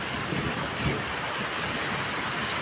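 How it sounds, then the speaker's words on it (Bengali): Heavy rain pours steadily during a storm outside a house, a dense continuous hiss of drops on surfaces, fairly close and even throughout, with no talk. "কি জোরে জোরে বৃষ্টি হচ্ছে, আপনারা দেখেন।"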